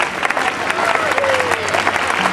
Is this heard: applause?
yes